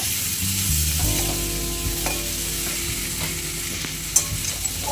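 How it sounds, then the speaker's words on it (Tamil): Tomatoes sauté in hot oil for a spinach gravy, giving a close, constant sizzle with light stirring and a few clinks of a utensil against the pan, and no talking. "இந்த தக்காளியோட வதக்கிடலாம் எண்ணெயில்"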